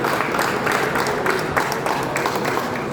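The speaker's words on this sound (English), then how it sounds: "Give a big round of applause, everyone." Steady applause from an audience at a Maharashtra quiz final, a continuous wash of many hands clapping at moderate distance, filling the room without pause and with no voices clearly on top.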